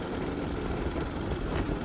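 A steady low motorcycle engine drone on a ride from Nashik to Harsul hums continuously with rushing wind noise over it.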